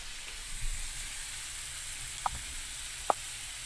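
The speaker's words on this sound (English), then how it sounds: "We got our sausage in. We're just going to let this brown." Sausage browning in a pan, a soft, steady sizzle and hiss in the background, broken by two sharp isolated clicks or pops near the end.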